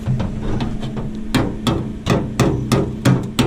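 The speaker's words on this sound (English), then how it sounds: "hammer it where it fits better." Sharp metallic hammer blows ring out in an irregular series, striking a still-hot metal car door panel close by while handles are shaved, with a low hum underneath.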